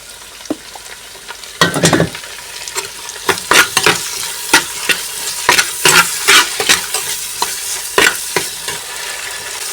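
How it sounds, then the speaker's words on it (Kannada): Tomato and onion fry in oil in a pan, a loud close sizzle broken by repeated sharp stirring scrapes, with no talking. "ಇದಕ್ಕೆ ಟೊಮೆಟೊ ನೀರುಳ್ಳಿ ಮತ್ತು ಒಂಚೂರು ಎಣ್ಣೆದು ಫ್ರೈ ಆಗೋದಲ್ಲ"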